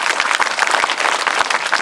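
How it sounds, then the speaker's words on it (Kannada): A school event audience claps loudly for a government school headmaster, a brisk, dense burst of many hands with sharp individual claps popping through the steady roar. "ಜೋರಾಗಿ ಒಂದು ಚಪ್ಪಾಳೆ ತಟ್ಟಿ."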